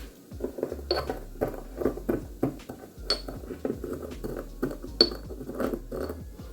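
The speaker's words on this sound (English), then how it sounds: "Okay, we got fennel seed. Apparently I'm supposed to crush this" Fennel seeds being crushed in a kitchen, a run of irregular clinking, knocking strikes repeating for several seconds with sharp hard taps, close and fairly loud, no talking.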